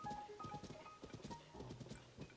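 Horse hooves clip-clop in a steady trotting rhythm while riding in Zelda: Tears of the Kingdom, clear and close over a soft layer of game ambience and music.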